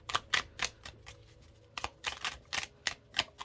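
Tarot cards being shuffled by hand, a run of crisp riffling bursts in uneven clusters with short pauses between, close and fairly quiet, with no talking.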